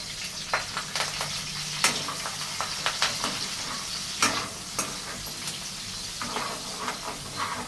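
Onions and chillies being stirred for chicken curry, a spoon scraping and clacking against the pan in irregular bursts over a steady sizzle, close and moderately loud, with no talking.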